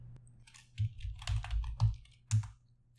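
A computer keyboard being typed on to enter a chmod command, a few quick close keystrokes with sharp clicks in an irregular rhythm.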